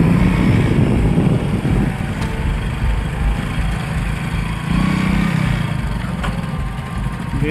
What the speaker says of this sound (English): The footage shows several motorbikes approaching this mysterious figure.